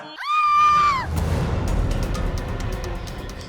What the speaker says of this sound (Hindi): ये किसकी चीख थी?